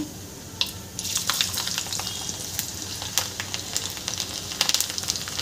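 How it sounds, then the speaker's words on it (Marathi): Garlic frying in hot oil with mustard seeds and cumin for a dry tondli vegetable dish, a steady close sizzle with scattered crackles and pops throughout, no voices. "मोहरी जिरं फुलल्यानंतर यामध्ये आपल्याला लसूण घालून घ्यायचं आहे।"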